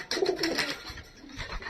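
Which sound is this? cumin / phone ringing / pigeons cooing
pigeons cooing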